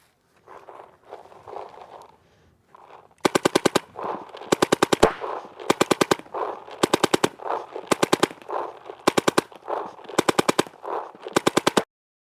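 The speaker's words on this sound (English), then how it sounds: "Being able to shoot with your left hand is very, very important, okay?" Paintball gun fired with the left hand in repeated rapid bursts of sharp cracks, several shots per burst with short pauses between, close and loud after a quieter opening.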